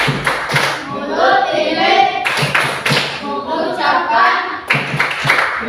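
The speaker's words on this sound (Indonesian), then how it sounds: "Ya, tepuk terima kasih." A classroom of children doing a rhythmic thank-you clap, sharp clap bursts repeating in a patterned beat with the group chanting along in unison between the claps.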